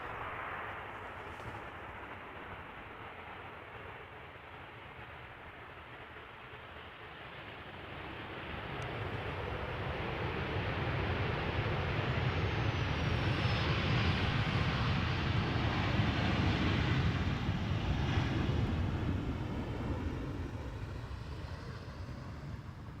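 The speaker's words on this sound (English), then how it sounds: "let's first have a look at the landing of the 737" A Boeing 737 lands at Amsterdam Schiphol Airport, its jet roar swelling from a distant rumble into a steady broadband rush that peaks mid-pass and then eases, heard outdoors with light wind and no talk.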